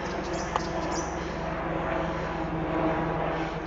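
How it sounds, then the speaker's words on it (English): A steady, droning aircraft rumble fills the whole stretch, constant and moderately loud, like a helicopter passing overhead at a distance. "You can hear we've got another helicopter here,"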